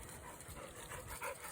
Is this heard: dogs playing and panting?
yes